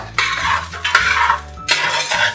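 Grated coconut is stirred and roasted in a hot uruli as its oil starts to release, giving loud, continuous scraping sweeps in a few long strokes with a soft sizzle underneath and no talk.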